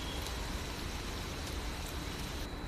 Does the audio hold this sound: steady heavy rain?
yes